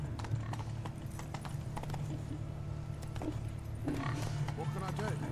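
Hoofbeats of Roach the horse in The Witcher 3, a steady clip-clop cantering rhythm with an occasional snort, under a quiet background and brief speech.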